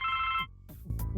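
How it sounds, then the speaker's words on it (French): A telephone rings in the Blackwell Legacy video game, one short electronic ring burst that cuts off and is followed by low tonal game sounds. "Le téléphone."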